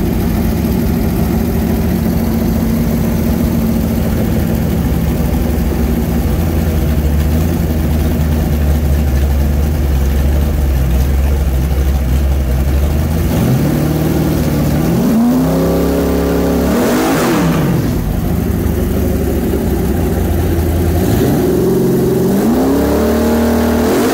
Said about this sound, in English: 1987 IROC Z 350 Chevrolet engine. We've got the Holley Sniper fuel injection on there. It's all dialed in, timing set. I mean, absolutely perfect. I'll fire it up again.